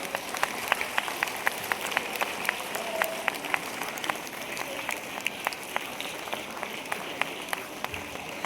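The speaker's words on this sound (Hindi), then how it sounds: "जोरदार तालियां" Applause at a school celebration program for people with disabilities, a scattered, lightly sparse crowd clapping steadily throughout at moderate distance.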